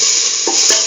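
Onion pieces sauté in a hot pan, a loud, dense close sizzle with a couple of brief stirring scrapes.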